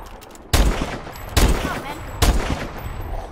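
Sniper rifle shots in a video game, three loud sharp cracks about a second apart, each followed by a short echoing decay.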